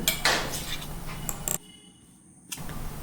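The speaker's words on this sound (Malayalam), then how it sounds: "ഇത് സ്പൂൺ കൊണ്ട് ഇളക്കിയാൽ മതിയാവും" A spoon stirring wheat flour for steamed puttu, a few scraping and clinking strokes against a bowl up close, then a brief quiet pause before another clink.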